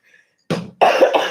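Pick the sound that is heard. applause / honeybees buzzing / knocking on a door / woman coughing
woman coughing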